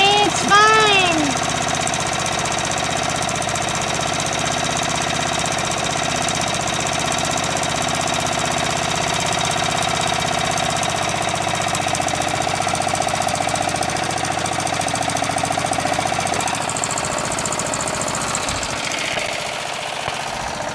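Murray lawn tractor engine idling steadily and loudly with a rough, knocking pulse, continuous for the whole stretch, with brief talk at the start.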